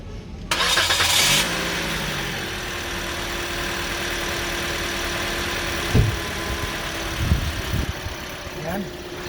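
A Toyota Vios engine cranks and catches near the start, then settles into a steady idle for the rest of the stretch, with a few brief knocks and bumps over the running engine.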